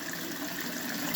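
Submersible 1/2 hp sump pump moving water, a steady, continuous gushing rush with no change in level throughout.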